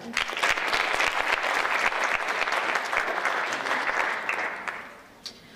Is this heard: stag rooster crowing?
no